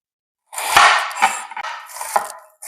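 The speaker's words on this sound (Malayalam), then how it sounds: "അപ്പോൾ ഉള്ളി ഇതുപോലെ നൈസായിട്ട് അരിഞ്ഞെടുത്ത് മാറ്റി വെക്കുക." Onions being finely chopped with a knife for egg puffs, heard as a few irregular, crisp knocks of the blade against a board, close and clear after a brief silence, with no talking.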